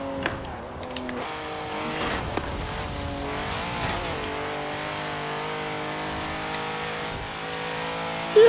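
Car engine revving with tires squealing while racing in Forza Horizon 4, a sustained loud engine drone shifting pitch as it accelerates, with skidding squeals and no talk.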